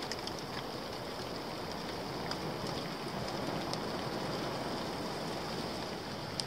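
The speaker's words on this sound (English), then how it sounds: "the wind is really picking up now and it's raining quite heavily" Heavy rain and strong wind at a wild bushcraft camp, a steady dense hiss of rain with gusting wind, continuous and enveloping, with faint patters on top.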